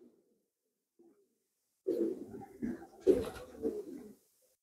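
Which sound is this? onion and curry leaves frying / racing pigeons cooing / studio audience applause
racing pigeons cooing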